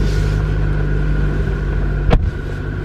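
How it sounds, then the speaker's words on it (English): A car's engine hums steadily at idle inside the cabin, a constant low drone with a brief sharp knock or click partway through, and no talking. "car on"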